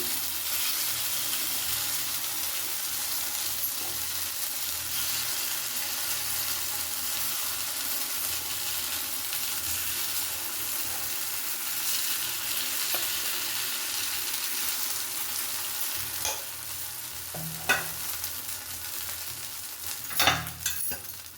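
Masala paddu batter frying in a paddu pan, a steady close hissing sizzle lasting throughout, with a few faint clinks and taps near the end and no talking.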